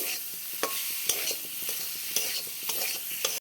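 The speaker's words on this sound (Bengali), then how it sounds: "দেখো আমি এখন কিন্তু কষিয়েই যাচ্ছি এভাবেই" Mushrooms being stirred and sautéed in a pan sizzle softly under repeated scraping strokes of a spoon, roughly a dozen close stirs in an uneven rhythm, with no talk.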